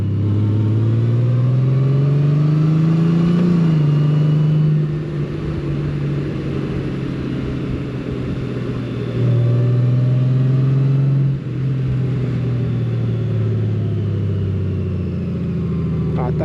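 Motorcycle riding along the Route des Crêtes mountain road near the Grand Ballon in France: a continuous mid-pitched engine drone that rises and falls with gear changes and throttle, close and steady throughout.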